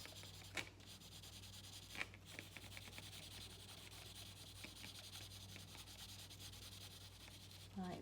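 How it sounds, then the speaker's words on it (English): Pencil shading around the outline of drawn lips on paper, a steady soft rubbing scratch running throughout with a few brief sharper taps, close and quiet with no talk. "You then need to shade around the edges of the lips."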